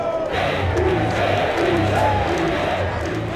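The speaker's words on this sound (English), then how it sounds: "Sunderland fans taunt their Newcastle rivals who are growing increasingly agitated" Sunderland football fans chant and jeer at Newcastle rivals in a packed Newcastle Central Station, a loud, dense roar of many voices rising and falling in rhythmic taunting shouts throughout.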